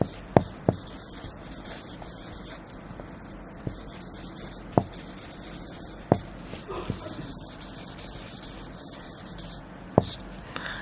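Chalk or marker writing on a classroom board, scratchy strokes with sharp taps at intervals, close and fairly quiet over faint room noise.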